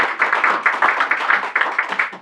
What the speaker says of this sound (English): May I suggest that you not applaud with each person